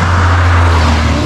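A car passes close on a wet road, making a loud, steady rushing roar with a low engine hum underneath through the whole brief moment.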